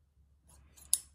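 Dressmaking scissors give one sharp, crisp snip through fabric during hand stitching, close and brief after a faint rustle, with no talk.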